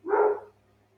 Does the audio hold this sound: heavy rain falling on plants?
no